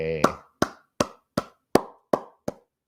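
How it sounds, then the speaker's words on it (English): Seven single hand claps, sharp and close, spaced evenly about two thirds of a second apart after a brief spoken word. "I am clapping."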